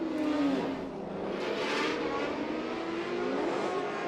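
Rowdy BMW E36 drift car at a Formula Drift PROSPEC round in Utah, its engine roaring loud and close with sustained high revs and slight pitch swings throughout.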